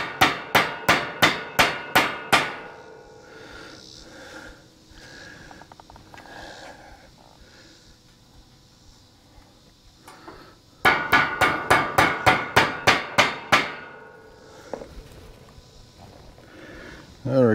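A hammer drives a new roll pin into place with a quick series of sharp, ringing strikes, about six in a row, then a long quiet gap with faint shuffling, then a second rapid run of strikes.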